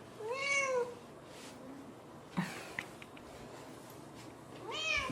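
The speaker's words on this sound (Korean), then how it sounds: "고양이가 버려져 있어" A cat meows loudly several times at the start and again at the end, near and clear, with quiet rustling and a couple of soft knocks in between, outdoors in Jeju.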